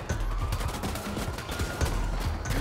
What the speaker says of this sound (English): They're just shooting the living crap out of this thing.